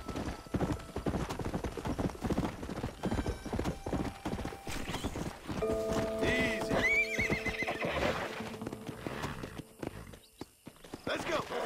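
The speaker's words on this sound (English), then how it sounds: "Horses in this game, they run out of stamina so much faster than they do in RDR2." Horse hooves pounding in Red Dead Redemption (2010) on Xbox 360, rapid clip-clop of a galloping horse with neighs and whinnies, loud and close, a voice talking over parts of it.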